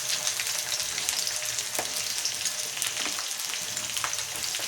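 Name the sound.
onions and green chillies frying in oil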